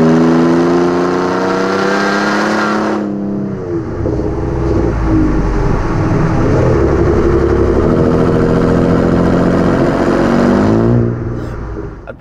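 Ford F-150 Raptor with a turbocharged V6 and Ford Performance cat-back exhaust, loud and close: a steady drone, then the engine drops to a deep rumble and builds again, with turbo whistle and rising revs before cutting off.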